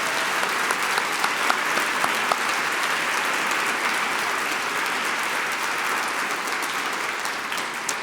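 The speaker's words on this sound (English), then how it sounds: "Can we give everyone a round of applause," A large audience at the Cal State Fullerton 2022 convocation claps in sustained, even applause, dense and steady throughout without a break.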